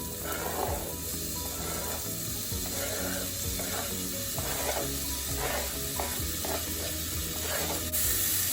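Onions, garlic and ginger frying in a pan with cumin powder, giving a steady close sizzle with scattered stirring clinks and scrapes throughout.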